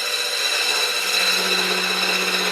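A woodturning parting tool makes a relief cut in a spinning workpiece on a lathe. It gives a steady, close, bright scraping hiss over a constant motor hum for the whole moment, with no talking.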